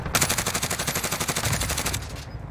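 Automatic gunfire in Call of Duty Warzone, a loud rapid even burst of shots lasting about two seconds, then a brief tail with scattered sounds.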